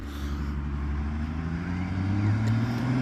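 A truck engine drones steadily at close range with a low rumble that rises slightly in pitch, on an Independence Day evening outdoors with fireworks nearby.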